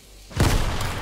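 A single loud, booming gunshot-like blast in the Fortnite video game, hitting abruptly after a quiet moment and trailing off into a rumbling decay.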